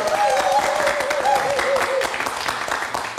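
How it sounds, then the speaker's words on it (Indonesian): Applause from a studio audience at a live Indonesian late-night talk show, dense clapping and crowd noise filling the short moment with a tonal musical sting running underneath. "Boleh tepuk tangan sekali lagi."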